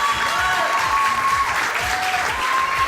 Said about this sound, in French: Allez, on applaudit très fort Karina Ladia.